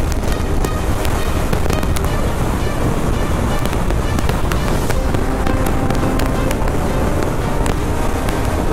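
Strong Patagonian crosswind buffets a motorcycle on a ride in southern Argentina, producing a loud, constant roar of wind against the microphone that drowns out nearly everything else for the whole stretch.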